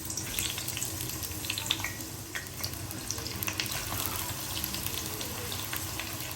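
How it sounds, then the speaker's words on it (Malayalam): Bitter gourd slices frying in hot coconut oil, a continuous, fairly quiet bubbling sizzle with scattered crackles and pops, heard up close with no talking. "ഇതിന് നല്ല ബ്രൗൺ കളർ ആവുന്ന വരെ ഒന്ന് വറുത്തെടുക്കണം"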